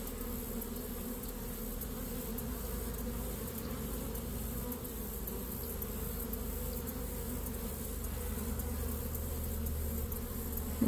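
Honey bees swarm around an open beehive with a dense, steady buzzing drone. The sound is close and continuous and fills the whole stretch with no talking.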